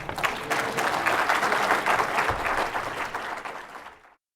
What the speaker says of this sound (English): How about a round of applause for Rudy Belarski?